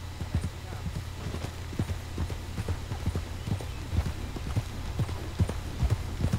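Horse hooves clip-clopping in Red Dead Redemption 2 make a steady rhythmic beat, close and moderately loud, under a constant low game ambience.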